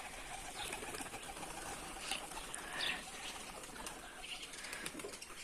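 Pigeons cooing softly and shuffling about, with faint wing flutters and small movements scattered through a quiet background, heard from close by with no speech.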